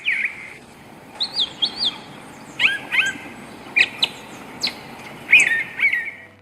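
A brown thrasher sings in a thicket at a woodland edge, giving a run of short, varied phrases spaced by brief pauses. The notes are clear and bright over quiet background hiss.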